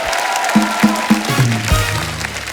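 A studio audience on The Kapil Sharma Show claps steadily to welcome guests, while short musical stings play loudly over the applause.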